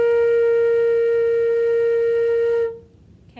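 One steady flute note held evenly for about two and a half seconds, clear and close, then cut off into quiet.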